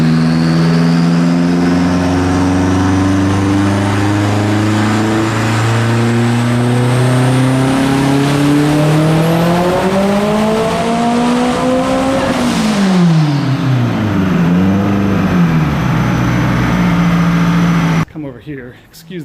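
A turbocharged Subaru Impreza Outback Sport engine making 911 wheel horsepower revs hard on a dyno in one long climbing pull to 8100 rpm, then drops back and burbles as it winds down, loud and close.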